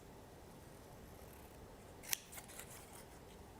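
Scissors give one sharp, clean snip through a paper die-cut while making a candy box, followed by a couple of softer cutting clicks against a quiet background.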